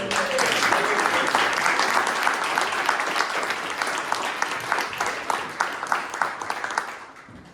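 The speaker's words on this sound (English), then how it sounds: "Give these guys a round of applause" A listening-party audience applauds three panel members. Many hands clap in a dense, steady roar at first. The sound then thins into fewer distinct claps before fading out at the end.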